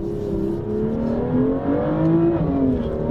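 A small high-performance BMW engine revs hard while the car drifts, a loud, continuous, rising and falling drone with shifting pitch that holds close throughout.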